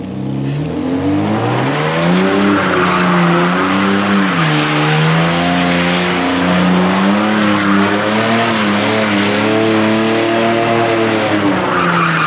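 A car engine revs hard while tires squeal in a long, loud drift, the pitch rising and falling as the wheels slide.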